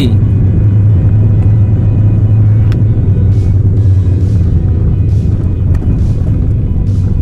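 An automatic car in D gear climbs a steep hill, its engine a loud, continuous low rumble and whir from inside the cabin, with steady road noise and no break.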